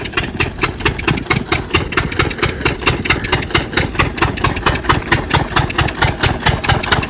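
Motor engine running at Bhavanisagar dam near moored coracles, a steady close chugging idle with a fast regular mechanical knock and no talking.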